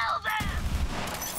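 Rapid gunfire from a weapon in the video game Borderlands 3, a short burst of shots with a dense, booming low end in a brief moment, loud and close.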